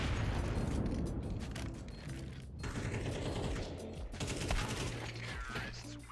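Rapid bursts of gunfire in Counter-Strike 2 on the Nuke map, several sharp shots in quick succession over a dense, busy game mix of clattering mechanical noise, loud and steady throughout.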